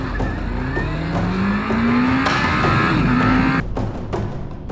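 Honda CBR Fireblade superbikes, a 1992 model and a 2022 CBR1000RR-R SP, race on a track with a loud, sustained engine howl that climbs through the gears and then cuts off abruptly.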